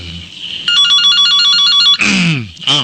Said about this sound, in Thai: ก็ขออนุญาตรับโทรศัพท์เนาะ